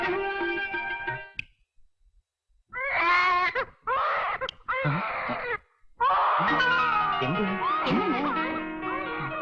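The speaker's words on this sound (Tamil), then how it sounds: "பக்கத்து வீட்டுல குழந்தை அழுகுது." Baby crying next door: drawn-out, high wailing cries that start, stop and start again in long loud bursts with short silent gaps, up close and without any talk over them.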